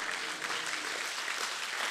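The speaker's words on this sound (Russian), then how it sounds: "Вот здесь место аплодисментам." A church congregation breaks into applause during a sermon, a dense, even wash of clapping from many hands that carries steadily throughout.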